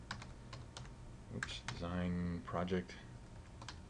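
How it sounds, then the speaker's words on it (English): Quick, light keystrokes on a computer keyboard sound up close and faint in short bursts, while someone speaks over the typing. "as an email address, we'll type in a valid email address"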